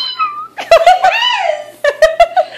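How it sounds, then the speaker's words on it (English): A cat high on catnip gives a string of short, high, squeaky meows, several close together near the mic, with a longer rising cry in the middle. "Why do you have a little meow?"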